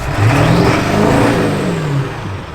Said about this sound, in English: They're bringing out the mega trucks now.